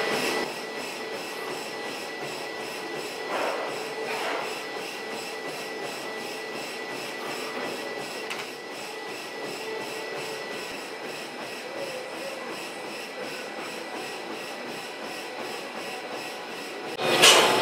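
A gym treadmill runs steadily in the background as a continuous, fairly loud mechanical whir with a faint rhythmic thump, unchanging for the length of the clip, with a brief louder burst near the end.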